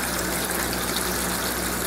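A water pump runs in a DIY waterfall hydroponic RDWC setup, giving a steady, close, rushing gush of flowing water with a low motor hum underneath, unbroken and alone.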